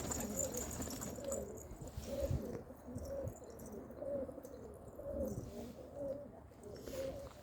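Homing pigeons in a loft give soft, low, repeated coos at a regular pace, close by over a steady background hum, with faint chirps mixed in.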